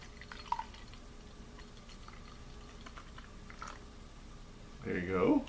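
Beer is poured into a glass near the end, a short fizzing, splashing rush after a long stretch of quiet room tone; the brew is a double-grain triple-hop beer with Falconer's Flight and Summit hops.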